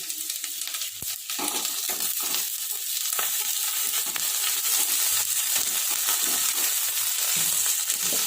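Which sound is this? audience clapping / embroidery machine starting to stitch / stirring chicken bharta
stirring chicken bharta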